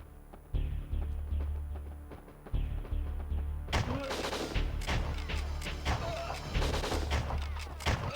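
Gunfire in the N64 video game WinBack: sharp shots come in scattered bursts and rapid clusters over a low game hum, some close and punchy, others lighter.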